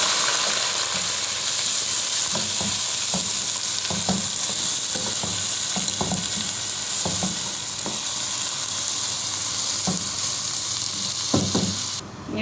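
Meat and onions fry steadily in a pot, a constant close sizzle broken by regular scraping and stirring knocks, with no voices.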